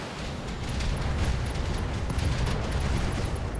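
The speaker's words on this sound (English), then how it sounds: "I am definitely willing to try for an ammo explosion on this stalker." An ammo explosion on a Stalker mech in the BattleTech video game gives a loud, rumbling blast that rolls on as a continuous heavy roar with crackling debris for several seconds.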